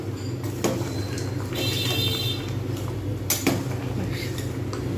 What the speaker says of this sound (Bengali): ঘি দিয়ে আমি এটাকে একটু নাড়িয়ে নেব